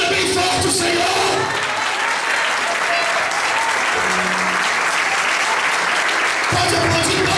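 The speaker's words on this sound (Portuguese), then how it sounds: "Aquele que crê, aplauda bem forte o Senhor." A Pentecostal church congregation at a festival service applauds loudly and steadily for several seconds, a dense wash of clapping filling the room, with brief voices breaking through near the start and end.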